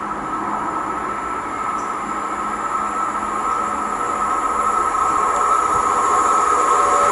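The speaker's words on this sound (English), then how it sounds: "we have a Great Western Railway 158 from Cardiff Central to Portsmouth Harbour" A Great Western Railway Class 158 diesel train passes close by at Keynsham, a steady rumbling engine drone with a hissing rail noise that builds gradually, no voices.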